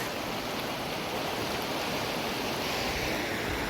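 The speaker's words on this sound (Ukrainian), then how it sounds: "Водоспад." A waterfall in the Buky Canyon, Ukraine, gives a steady, loud rush of falling water filling the whole clip, a constant broad roar with no pauses and no voices.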